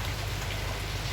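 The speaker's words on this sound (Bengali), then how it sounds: "টিপটাপ বৃষ্টি।" Light rain patters steadily and evenly in the evening during the monsoon season, forming a close, continuous soft hiss of drops with no voices.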